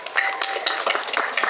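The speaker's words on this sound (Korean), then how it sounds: "박수로 환영하겠습니다." A gathering audience claps to welcome guests from the Jeonnam NCC at a church-run memorial culture event, a dense, steady patter of many hands lasting the whole short stretch.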